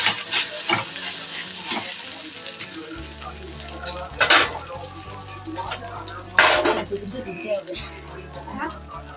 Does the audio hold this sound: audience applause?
no